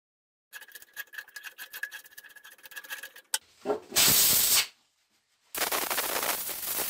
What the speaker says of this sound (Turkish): Kayışı takmadan önce sökmüşken balata spreyi dedikleri temizleyici spreyle bir temizlersek iyi olacak.